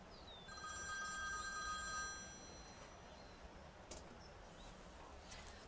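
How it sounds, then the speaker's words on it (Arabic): A telephone ringtone trills in a quiet indoor room, a short electronic ring lasting about two seconds, fairly faint, then fading into soft background hiss with no talk. "بيبي تليفونك بيرن،"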